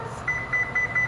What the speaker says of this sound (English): Okay, so the timer just went off.